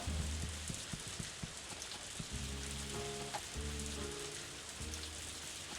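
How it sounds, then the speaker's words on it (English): Steady rain patters throughout in the farming game Story of Seasons: A Wonderful Life, alongside tonal game-like sounds and soft thumps, a continuous hiss of falling drops with no talking. "I love this rain sound."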